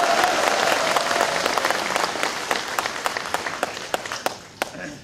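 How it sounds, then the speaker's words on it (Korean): At a Democratic United Party rally and leadership convention in Gwangju, a crowd gives dense, lively applause that thins into scattered individual claps as it tapers off. "여러분 큰 박수와 한 웃음 보내주십시오"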